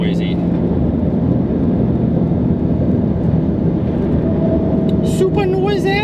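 A car fitted with a twin-disk clutch sends out a loud, continuous exhaust drone and rumble, recorded close to the ground. A faint voice is heard briefly near the end.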